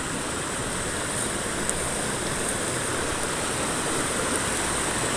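Galuh River rushing over rocks at a crossing, a steady broadband wash of flowing water that stays close and even throughout, with no voices.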